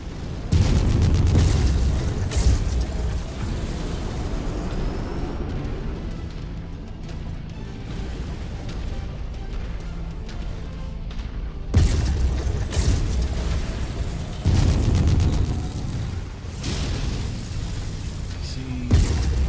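Heavy shells booming from mech weapons fired at a Warhammer in a BattleTech-style mech shooter game, repeated loud blasts and crashes with rumbling low end, with stronger bursts near the start, around twelve seconds and fifteen seconds.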